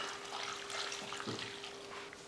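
Water pours into a pressure cooker while tomato kadayal is being cooked, a soft continuous splashing and trickle, fairly quiet and close, with no voices.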